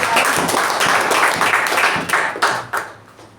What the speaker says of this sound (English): A big round of applause to Toastmaster.